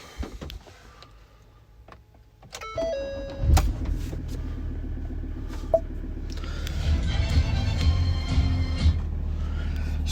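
Diesel engine of a 2018 Ford Ranger 3.2 TDCI Wildtrak automatic cranking and catching, then settling into a steady low idle rumble heard from inside the cab, with a few clicks before start.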